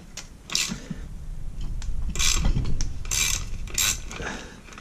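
Metal puller being tightened on the clutch bevel gear of an 80cc motorized bicycle, with ratcheting clicks, scraping metal and sharp creaks as the gear works loose, close and fairly loud.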